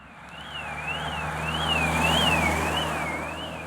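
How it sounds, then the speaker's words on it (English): A car alarm warbles up and down in a steady repeating pattern beside the A75, over a low engine hum from passing heavy trucks, swelling slightly louder midway. "Finally got the alarm to stop."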